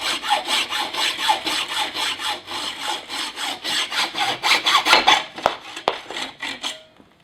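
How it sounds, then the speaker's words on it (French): A hand hacksaw cuts through a carbon LOOK E-Post bicycle seat tube in fast, steady back-and-forth strokes, close and loud, before slowing and stopping near the end. "réalisez la coupe à l'aide d'une scie à métaux"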